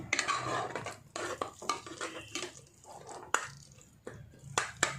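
Cooked, ground palak spinach paste is stirred in a pan during beef biryani prep, giving repeated scraping and clinking strokes of a spoon against the pan in irregular bursts, close and fairly quiet, with no talk.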